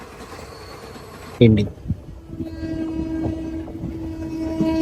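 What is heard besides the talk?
express train passing on railway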